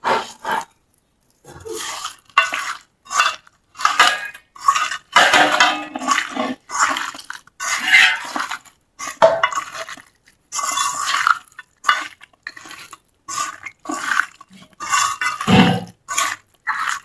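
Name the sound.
mixing food with salt in a bowl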